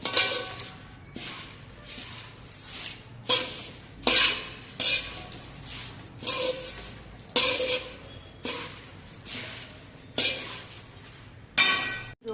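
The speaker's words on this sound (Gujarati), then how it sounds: "થોડા નાયલોન પૌવા શેકાઈ જાય" Nylon poha (thin flattened rice) is roasted in a pan and stirred, giving repeated scraping, rustling sweeps about once a second with light clinks of the spoon against the pan. The sound is moderately quiet and close, with no voices.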